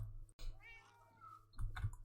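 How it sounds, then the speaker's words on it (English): A cat meows in the Minecraft video game, its short harmonic calls sitting quietly over a low game background hum, with soft clicking nearby. "Oh, a cat."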